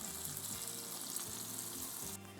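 Bacon fries in a pan with a soft, steady sizzling hiss, fairly quiet and unbroken, over a faint low hum that shifts slightly near the end.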